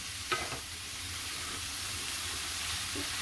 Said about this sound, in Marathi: हे बटन मशरूम आहेत. चांगले परतून घेते.